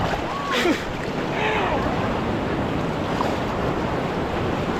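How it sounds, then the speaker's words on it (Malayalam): Sea waves surge and wash around a wader close by on a shoreline, a constant loud rushing roar with wind buffeting the microphone and brief splashes early on. "അടുത്ത തിര വരുന്നുണ്ട്."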